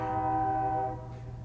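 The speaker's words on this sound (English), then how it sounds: "train's coming through" A train horn blares loud and close in long sustained harmonic blasts over a steady low rumble of a passing train, the horn cutting off partway while the rolling rumble continues.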